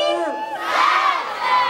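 A large crowd at a city festival in Irshava shouts a rock band's name together, a loud unified chant that swells and rises, close and dense.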